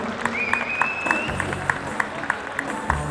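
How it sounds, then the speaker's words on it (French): Audience applause at a children's cosplay parade, a steady crowd clapping wash with a few sharper claps standing out, joined by a sustained whistle-like tone. "Allez, on applaudit bien fort, faites du bruit."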